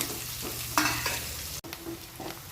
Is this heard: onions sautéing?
yes